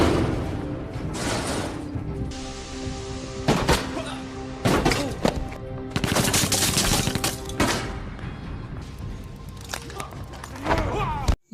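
Bursts of gunfire from an attack on a mafia hideout, with loud repeated volleys and single sharp shots mixed with thuds and other action sounds, while voices speak over parts of the scene.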